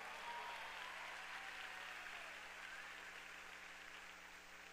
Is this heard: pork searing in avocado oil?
no